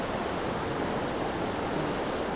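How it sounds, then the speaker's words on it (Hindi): Water pours steadily over a waterfall above a power project channel in the Golain Valley of Chitral, a dense, constant roaring rush with no pauses. "जो पानी आ रहा है ऊपर से वो जो पावर प्रोजेक्ट को जा रहा है, ये उसके ऊपर आबशार बनी हुई है"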